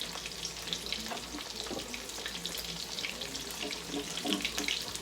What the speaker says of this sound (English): It's a good sizzle, right?